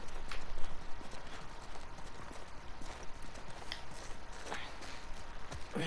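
Horse hooves in the game The Last of Us Part II, a steady run of clip-clop steps on hard ground, moderately near and continuous without speech.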